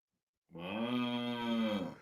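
A single cow moos once in a steady, drawn-out call of about a second and a half. The call comes alone and at moderate volume.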